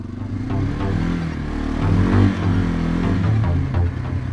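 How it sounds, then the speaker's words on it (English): A 1989 Yamaha Moto 4 ATV engine revs while being ridden, a continuous mid-pitched motor drone that swells and dips with throttle, close and fairly loud, with some clatter and no talk. "We're just going to rip the Moto 4, see how it runs today."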